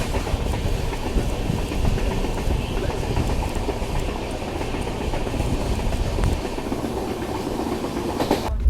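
Passenger train rolling through the Shiradi Ghat section in Karnataka, a steady rumble of carriages with faint clatter running unbroken throughout, heard from on board with people talking over it.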